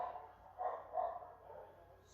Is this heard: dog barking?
yes